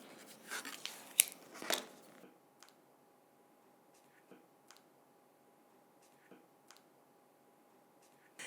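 Fabric is cut against a patchwork ruler with a few quick, close crunchy snips and scrapes at the start, followed by faint scattered ticks over quiet.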